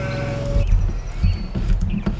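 Sheep bleating in Farming Simulator 2013: a wavering, bleat-like animal call at the start, followed by low thumps and farm-machine rumble, close and fairly loud.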